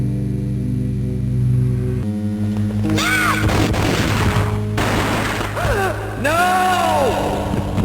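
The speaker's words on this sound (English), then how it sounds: "The gunshot boomed and she fell down in slow motion" A gunshot booms in the Max Payne game for Game Boy Advance, a deep boom and crash over looping game music with sweeping synth tones.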